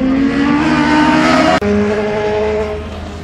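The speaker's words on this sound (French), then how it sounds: "nous avons quelques nouvelles arrivantes avec une Mercedes AMG GT cabriolet" A Mercedes AMG GT cabriolet arrives at a car gathering at Montlhéry, its engine loud and close with a rising then falling tone and a brief dip midway.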